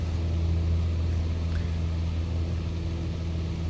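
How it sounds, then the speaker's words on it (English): A light aircraft's piston engine droning loudly and steadily in flight, with the mixture being leaned. The tone holds a constant, even pitch throughout, with no other sounds. "When you do that, it causes the engine to rev higher and"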